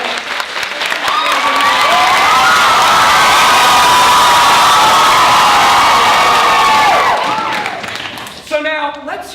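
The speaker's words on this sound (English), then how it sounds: "Let's test out this applause-o-meter right now." A live audience cheers, whoops and applauds loudly and steadily for Frank's team at a comedy show, a dense roar of crowd noise that swells, holds for several seconds, then fades out.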